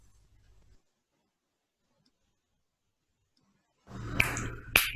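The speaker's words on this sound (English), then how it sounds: "I am snapping my fingers." Two crisp finger snaps close to the mic, a sharp single snap then another about half a second later, set against near silence in a children's English conversation lesson.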